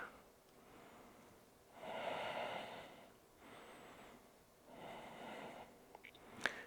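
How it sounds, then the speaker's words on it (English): Slow, deep breaths taken while holding a yoga backbend pose, three long airy inhale-exhale swells spaced a few seconds apart, close and soft, with no talking. "Take 2 to 3 breaths here."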